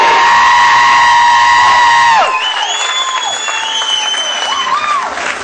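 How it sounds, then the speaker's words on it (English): Audience at a comedy show applauds and cheers for a comedian, steady dense clapping with whoops, then a whistle-like cry sweeps through over continuing crowd noise. "I want you guys to start clapping right now."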